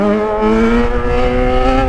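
A Yamaha XJ6 motorcycle engine revs hard and steadily for a wheelie, a loud, close, sustained tone with a slight rise in pitch.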